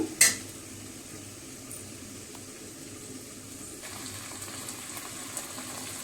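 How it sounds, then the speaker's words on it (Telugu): Chicken pieces fry in a pan with turmeric, giving a steady soft sizzle throughout, with a sharp clatter at the start and a few faint utensil taps. "చికెన్ వేసుకొని ఫ్రై అవనిద్దామండి."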